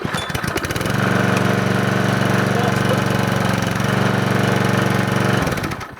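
An old Qualcast Instart petrol lawn mower sputters to life first time after a brief rattle, then runs loudly and steadily at a rough idle before cutting out.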